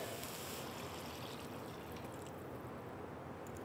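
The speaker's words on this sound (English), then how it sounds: "And then I'm going to go ahead and add the water." Water pours steadily into a soup pot of simple vegetable soup being made on the stove, a continuous close splashing stream that runs alone for a few seconds at low volume.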